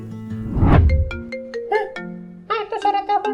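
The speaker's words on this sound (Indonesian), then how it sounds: "Itu suara telepon siapa tuh?" A telephone ringtone chimes out a melodic tune of bright repeated electronic notes, close and clear, with a brief whooshing swell early on.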